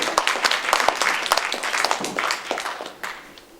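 Audience applause at an ImproGLIO improv theatre show, sharp close claps in a brisk burst that swells then thins and fades toward the end.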